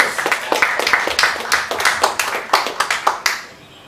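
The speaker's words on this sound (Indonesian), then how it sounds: "Luar biasa. Tepuk tangan dulu." Applause from an audience at a Windows 10 demo challenge event, a scattered burst of handclaps with distinct individual claps that thin out and stop near the end, moderately loud.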